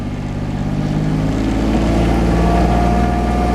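Engine of sawmill machinery running steadily after being put in gear, a loud, continuous low rumble with harmonic drone that firms up slightly partway through, no talk over it.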